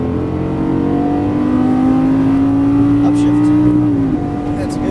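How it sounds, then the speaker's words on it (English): A Lamborghini Gallardo on a track pulls at full throttle, its loud, close engine note climbing steadily for about four seconds before dropping sharply on an upshift, then carrying on. "Full throttle when we're straight."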